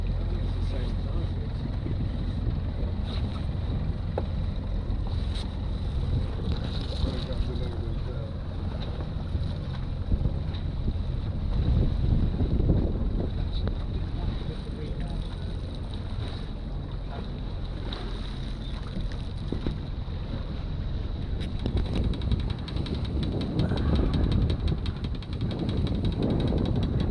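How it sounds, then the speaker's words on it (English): Sailing yacht at sea on a delivery passage from Grimsby to Whitby, with steady wind rushing and buffeting the microphone over hull and wave noise, a continuous roar with faint voices talking now and then. "Wind's building a bit there."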